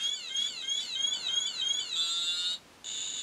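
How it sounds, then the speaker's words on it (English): A Radiacode 102 radiation detector sounds its alarm near a cesium-137 source: a shrill, warbling electronic beeping that runs steadily, drops out briefly near the end, then resumes, fairly loud and close with no voices. "And we'll ignore the alarm"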